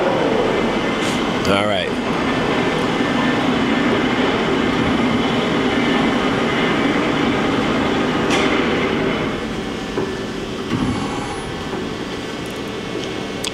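A 2007 Johnford ST-40G-CF CNC lathe with a 50 horsepower spindle turning at about 280 RPM gives a loud, steady mechanical whir, with a brief spoken remark over it.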